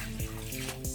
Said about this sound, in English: Then finally we are going to add in water